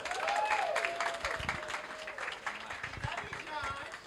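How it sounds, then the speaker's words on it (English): Round of applause at an awards ceremony, a crowd clapping and cheering with voices calling out over the claps, which are loud at first and then taper slightly. "Thunderous round of applause."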